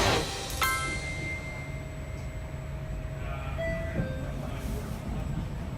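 Continuous rumble of a train arriving at Venezia Santa Lucia station in Venice, with a steady hum, a brief tone and faint clanks, heard from inside the carriage.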